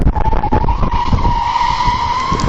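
Loud, sustained tire screech from a car braking hard on the road, a steady squeal skidding on over engine rumble for a couple of seconds, heard from a dashcam.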